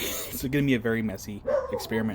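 A dog gives short yips and whimpering barks in a workshop, brief and close, heard under a person talking throughout.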